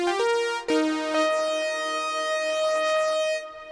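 A buzzy CS-80-style Blade Runner synth lead built from two detuned sawtooth oscillators, holding a steady bright note after a couple of quick pitch changes, with no voice.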